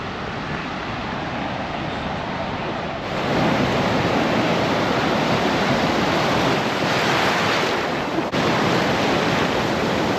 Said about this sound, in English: It's an awesome day to be in the Atlantic Ocean.